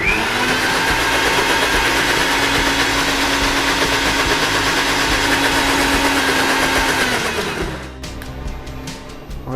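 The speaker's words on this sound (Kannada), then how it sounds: "ಇನ್ನೊಂದು ಅರ್ಧ ಗ್ಲಾಸ್ ಅಷ್ಟು ನೀರು ಹಾಕಿ ಪುನಃ ಗ್ರೈಂಡ್ ಮಾಡಬೇಕು" A kitchen mixer grinder blends ABC health drink ingredients with added water, a loud steady motor whine running continuously before abruptly winding down and stopping near the end.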